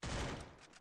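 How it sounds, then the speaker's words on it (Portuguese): A burst of gunfire exchanged in a video game, a dense rapid volley of shots that starts abruptly and tails off within a second, fairly faint in the game mix. "Troca tiro."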